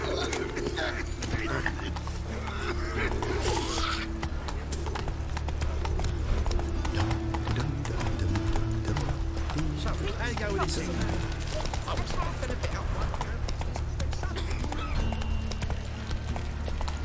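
Horse gallops in The Witcher 3 video game, quick rhythmic hoofbeats drumming on over creaks and ambient game sounds, with brief voices speaking over the ride.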